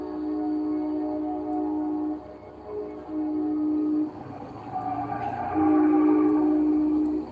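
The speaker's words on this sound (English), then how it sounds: "It sounds like it might be another train." Norfolk Southern train horn sounding in long sustained blasts, with a passing train rumble and some wash of noise between the blasts; fairly loud, no talking.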